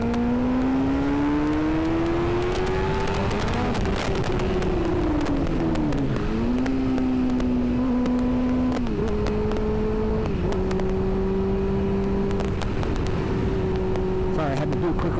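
A motorcycle engine revs up in a quick acceleration pull, its pitch climbing and dropping through several gear changes, loud and close with steady wind rush throughout.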